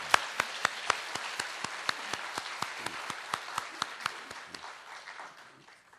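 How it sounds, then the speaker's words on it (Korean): Applause welcoming four church elders during a Korean church worship service, heard as a run of distinct, evenly spaced claps that start sharp and fairly loud, then soften and thin out toward the end. "반갑게 우리 환영의 박수 보내겠습니다."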